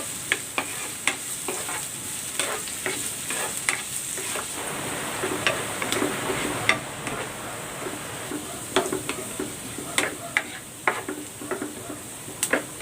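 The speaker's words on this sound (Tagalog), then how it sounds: "Lagay na rin natin tong luya at ang bawang. Igisa natin ito dito hanggang sa mag golden brown." Ginger and garlic sauté in oil until golden brown under a steady close sizzle, with frequent sharp scrapes and taps of a spatula stirring against the pan.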